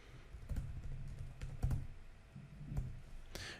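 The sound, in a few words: typing on a computer keyboard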